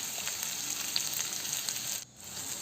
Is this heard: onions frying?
yes